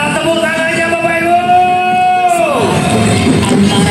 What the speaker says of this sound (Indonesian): Mana tepuk tangannya Bapak Ibu?